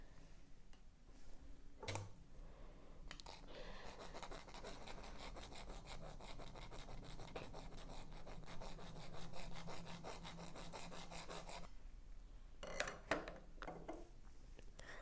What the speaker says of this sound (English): what I need to do is I need to file out the holes to make them bigger